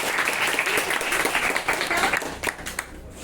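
Students in a classroom break into a burst of clapping that stays dense and fairly loud for about three seconds, then thins out into a few scattered claps near the end.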